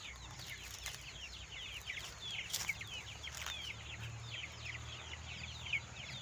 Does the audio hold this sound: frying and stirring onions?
no